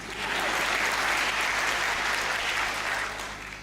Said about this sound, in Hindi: तुमसे ताली भी नहीं बज रही